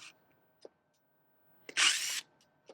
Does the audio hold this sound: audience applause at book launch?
no